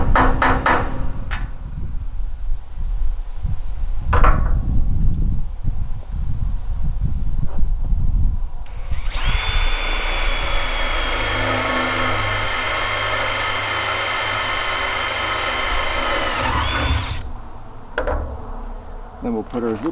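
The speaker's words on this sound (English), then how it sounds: "And to do that, you need to drill a hole." Power drill boring a hole into a utility trailer, a loud, steady high whine sustained for about eight seconds after some clattering handling sounds, close to the listener, then stopping abruptly.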